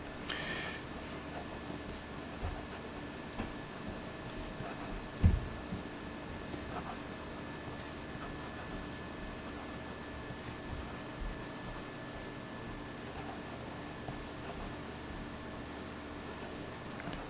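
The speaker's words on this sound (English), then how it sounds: "it just writes perfect" A Leonardo Momento Zero Grande Art Deco fountain pen scratches softly across paper in steady, close strokes with brief pauses and one small tap, against a quiet room hiss.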